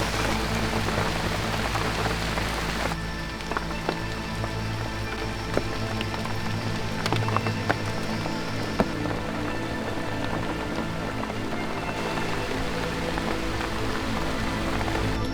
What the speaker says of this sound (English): So outside it's raining, but we have fire.